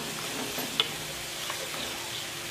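Onion, tomato, mixed vegetables and green chillies frying in a pan for sambar give a soft, steady sizzle, with one faint clink of a utensil. It is quiet and close, and no one speaks.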